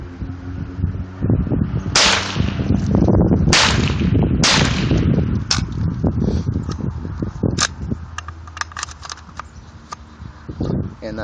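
A Walther P22 pistol fires the last few rounds from its magazine, three sharp loud cracks spaced about a second apart, followed by lighter mechanical clicks and a voice talking.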